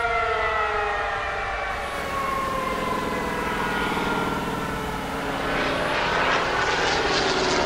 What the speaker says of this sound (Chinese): 鬼子的飞机来了